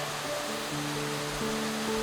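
Powerful cascades of the historic water features at Kassel Wilhelmshöhe roar in a thick, unbroken rush of falling water, loud and close, with no voices over it.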